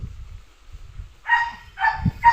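A dog barks a few times in quick succession, fairly close and loud, after a quieter stretch of low rumbling background.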